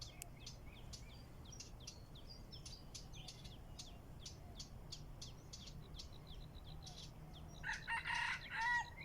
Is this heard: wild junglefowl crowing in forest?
yes